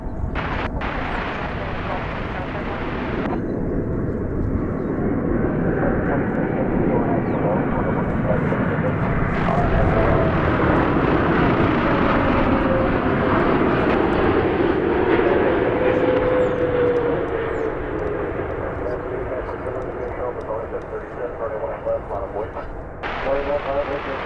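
Boeing 747 freighter landing after a 5.5-hour flight from Anchorage, a loud sustained jet roar swelling and holding for many seconds with a whining engine tone, heard from outside at the airfield.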